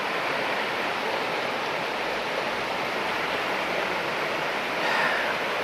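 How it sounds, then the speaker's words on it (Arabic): A fresh, clear river in Georgia flows past in a steady, full, unbroken rush of water that stays loud and even from start to finish, with no voices. "نهر رقراق عذب"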